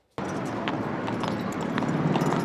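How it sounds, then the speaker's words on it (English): Hooves of a horse pulling a calèche on a Quebec City street clip-clop in a steady, fairly close rhythm over a constant outdoor background hum. "Horse-drawn carriages traveling up and down streets is a common sight in Quebec City."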